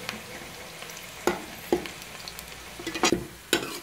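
Onions frying to golden brown in a pan for a meat curry, a soft continuous sizzle broken by a few sharp scrapes and clacks as a spoon stirs them.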